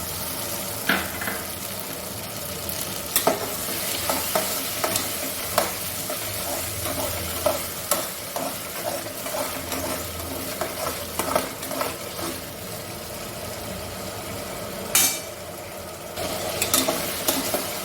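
An onion, tomato and ginger-garlic paste base for mutton curry sizzles steadily in a pan, with repeated scraping and clacking of a stirring spoon throughout.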